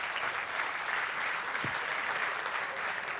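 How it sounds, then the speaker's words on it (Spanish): Steady applause from a young audience at an advisors' gathering, an even wash of clapping lasting the whole stretch, fairly faint, with no voice over it. "un aplauso para todos"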